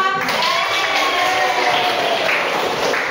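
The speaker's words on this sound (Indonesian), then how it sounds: "Tepuk tangan Marica." A classroom of students claps together in a loud, continuous wash of hand claps, with some voices mixed in underneath.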